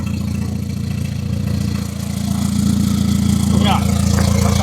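Mercedes GLA 45 with a detached exhaust idling nearby, giving a loud, steady low rumble with a rough, uneven throb that swells slightly toward the end, with voices talking over it.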